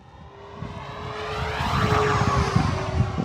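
An FMS T-28D Trojan 1.4 m RC plane makes a high-speed pass at full throttle. Its engine drone grows steadily louder as it sweeps closer, and the pitch shifts as it goes by.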